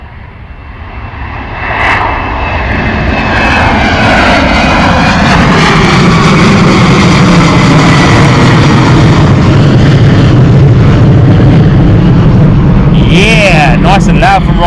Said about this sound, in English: Nice and loud from Ryanair off to Valencia this morning, Boeing 737.